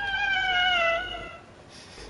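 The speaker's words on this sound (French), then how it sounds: "Mais c'est un chat qui est en train de se battre!" A cat lets out a drawn-out, wavering yowl, loud and nearby for about a second before trailing off into quiet background.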